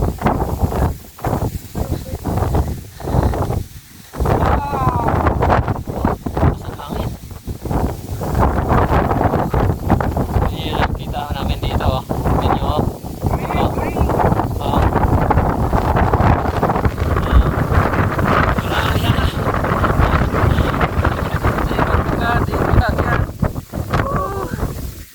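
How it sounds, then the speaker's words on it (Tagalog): Strong wind on the summit of Mount Balinsayao roars and buffets the microphone in continuous heavy gusts, while voices talk intermittently through it. "Ang lakas ng hangin guys."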